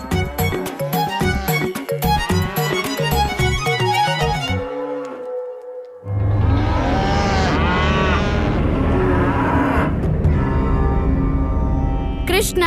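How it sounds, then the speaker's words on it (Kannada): Cattle lowing at a pastoral cowherd setting: a long, drawn-out moo rises after several seconds of music, loud and sustained over a musical background, with no speech over it. "ಹಸುಗಳೆಲ್ಲ ಕೂಗ್ತಾ ಇವೆ."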